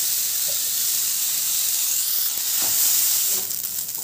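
Rice sizzles in desi ghee in a hot frying pan while kheer is being made, a constant bright hiss with small crackles and a louder swell near the end, without talk.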